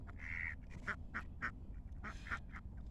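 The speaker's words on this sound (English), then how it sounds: "My poor duckies." Wild ducks gather at feeding time and quack over and over in short nasal bursts, a few calls at a time, moderately close against a low rumbling outdoor background.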